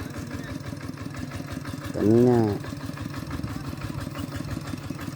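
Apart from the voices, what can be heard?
farm tractor engine running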